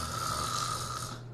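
A person snoring loudly and close, a single long, rough, rattling breath that fades slightly at the end, with no talking.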